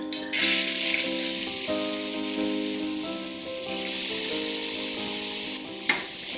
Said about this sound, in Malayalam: ഇനി ഇതിലേക്ക് നമ്മൾ ഗ്രേറ്റ് ചെയ്ത് വെച്ചിരിക്കുന്ന ക്യാരറ്റും ബീട്രൂട്ടും കൂടെ ചേർക്കാം.